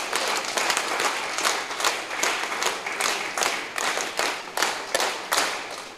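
Applause from the audience at the closing ceremony of an alcohol de-addiction camp on its family day, a dense burst of clapping that surges in repeated waves, loud and close, with no talking over it.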